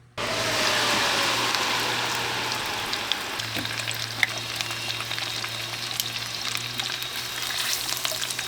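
Chicken skin sizzling and crisping on a woodfire grill, a steady loud hiss with scattered pops and crackles throughout.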